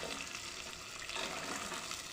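Fried vadiyalu stirred in a frying pan, a dense continuous sizzle with scraping and rustling from the stirring, close and steady throughout.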